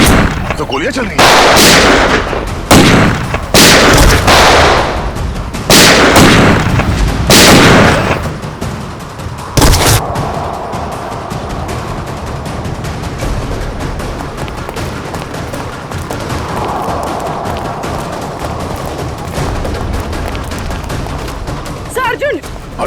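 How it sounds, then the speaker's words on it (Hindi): Loud gunshots in a crime drama TV scene, with heavy booming bursts packed into the first half, then a quieter, steadier background with voices. "तो गोलियां चल रही हैं।"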